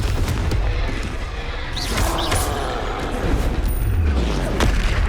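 Booming blasts from the Confringo explosive spell in Hogwarts Legacy, a loud, dense battle din with heavy low thuds and crackling impacts.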